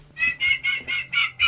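Young turkeys on a small farm give six quick, evenly spaced clucking calls up close, each short and bright, with no talk.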